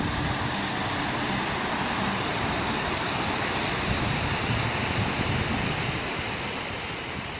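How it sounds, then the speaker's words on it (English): A large waterfall in Romania, reached on a bike tour, roars as a steady, loud, broadband rush that holds unbroken throughout. "I'm at the top of a big waterfall right now"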